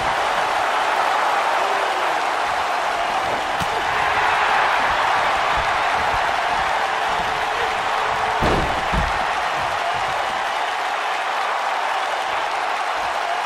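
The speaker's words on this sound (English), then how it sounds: "the crowd is loving Sasha's act" Steady roar of a large arena crowd during a WWE 2K-style wrestling game match between Sasha Banks and Becky Lynch on Monday Night Raw, a continuous dense cheer with a couple of sharp thuds and a commentator's voice beneath.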